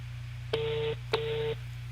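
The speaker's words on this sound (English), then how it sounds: "I'm placing a call to Comrade Abba Jalingo again to see if we can get" A telephone call placed over a radio phone-in line gives two evenly spaced ringback tones, each lasting under half a second, over a steady low electrical hum.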